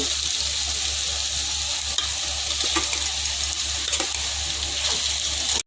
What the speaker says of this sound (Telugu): ఆనియన్స్ చేసి పక్కన పెట్టిన చికెన్ ఇప్పుడు ఈ ఆనియన్స్ ఫ్రై అయినాయి కదండి, దీనిలో వేసేద్దాము